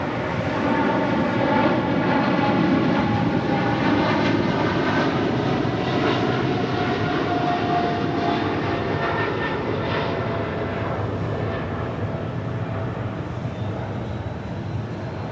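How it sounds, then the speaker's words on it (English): A Viva Aerobus Airbus A320neo jet arriving from Guadalajara at Los Angeles airport, its engines a loud, steady roar with a whining tonal hum that holds for the whole stretch and eases slightly toward the end. "That is Viva Aerobus Flight 510 coming from Guadalajara, that A320 Neo."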